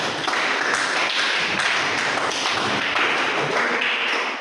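A classroom of students claps together, a dense, steady patter of many hands that runs loud and unbroken throughout, with no talking over it.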